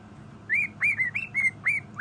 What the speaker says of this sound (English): Say, Percy the bird!